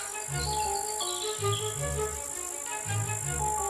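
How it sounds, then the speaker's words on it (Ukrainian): Grasshopper chirping in pulsing bursts, a rhythmic buzzing trill repeating every second or so, fairly soft and steady. "Коник сів і почав водити ніжкою по крилу, як смичком по скрипці."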